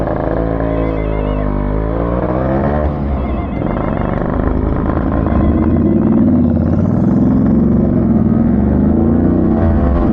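A 2002 Yamaha RX 135 two-stroke motorcycle engine being throttled, a loud, close, continuous buzzing drone with rising and falling revs and no voices.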